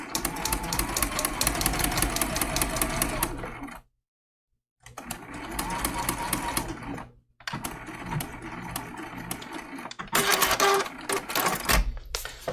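A sewing machine stitches around the base of a fabric snowman trivet, rapid rhythmic mechanical clatter in close bursts, broken by two brief pauses and ending with a few short back stitches.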